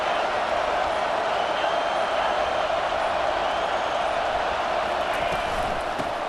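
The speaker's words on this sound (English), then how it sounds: "This crowd knows this defense needs them right now." A packed stadium crowd in EA Sports College Football 25 keeps up a dense, steady roar of cheering and chatter, loud and unbroken throughout.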